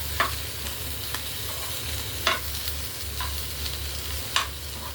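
Fish roe frying with masala in a pan, a steady close sizzle broken by about five sharp scrapes of a spatula stirring at uneven intervals, with no voices.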